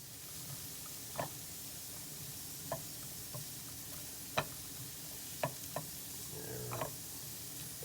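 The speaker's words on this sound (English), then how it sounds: "It's sizzling. I'm going to put the onions in there," Onions sizzling in a hot frying pan, a soft steady hiss broken by occasional clicks and knocks of a utensil stirring against the pan.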